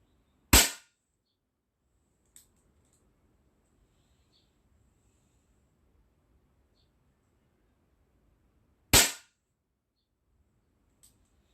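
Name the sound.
blank shots during shooting training session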